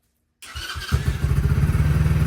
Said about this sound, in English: Go ahead and pull your brake, give it a start.